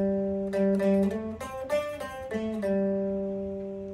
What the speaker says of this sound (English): Let's take the first note and repeat it while playing the lick.